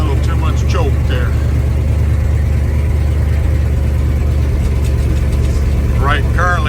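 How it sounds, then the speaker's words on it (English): A 1974 Ford F100 pickup engine running at idle with a slight exhaust leak, a steady low rumble throughout, while someone talks over it. "We're going to start up our 74 F100 here."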